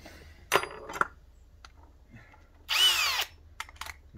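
A Bosch GSR/GSB 18V-150 C cordless drill makes a short test hole in wood: a couple of brief clicks and handling knocks, then a loud, close whirring burst under a second, rising in pitch as the bit spins up.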